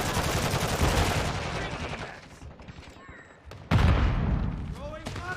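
Rapid bursts of automatic gunfire and heavier booms from a Modern Warfare II battle, loud and dense, dropping briefly before another intense volley, with voices calling out over the shooting.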